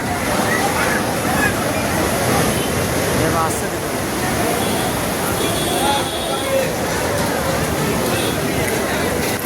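Rough, surging sea waves break onto the beach at Digha during steady rain, making a loud, continuous roar of surf and water noise with talk running over it throughout.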